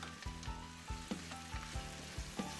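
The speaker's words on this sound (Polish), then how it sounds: "Dorzucam do zeszklonej już cebuli i smażę razem," Steady close-up sizzling of beets frying with softened onion in a pot, with occasional soft scrapes and knocks as they are stirred.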